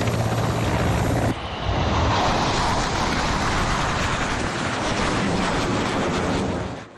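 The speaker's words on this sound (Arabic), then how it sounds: "كل هذا الزخم الهائل من أصوات الطائرات المحلقة على سماء العاصمة" Chadian air force military aircraft fly over the capital N'Djamena during independence day preparations, a loud, steady engine roar that fills the clip with wind buffeting the microphone.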